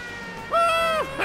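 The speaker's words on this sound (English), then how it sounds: "I can't wait for this siren sound to play the whole time." A police siren in a Cars video game gives one short electronic wail that swells up, holds and drops away in about half a second over quiet game background.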